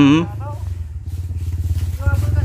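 An enduro motorcycle engine labouring up a steep dirt trail, a loud, close, pulsing throb that rises and falls, with a voice speaking over the start.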